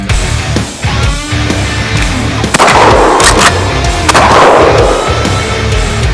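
Gunshots fired outdoors at a Bwine F7GB2 drone, a few heavy booming blasts over a constant loud rumble, close and loud with no talk.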